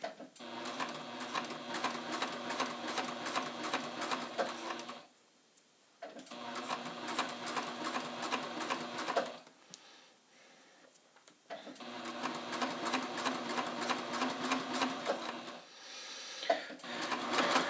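A sewing machine stitches a heavy duty invisible zipper into a dress in three quick runs of rapid, rhythmic mechanical clatter, separated by short near-silent pauses.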